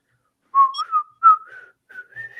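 A person whistles a short, clear melody of a few sliding notes, close and distinct against near silence, with brief pauses between phrases.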